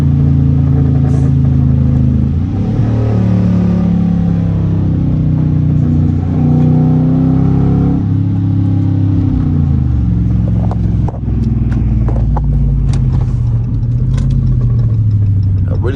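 Dodge Charger R/T in sport mode, its engine droning and revving through gear changes with rising and falling pitch, loud and close from inside the car, with a few brief knocks near the end.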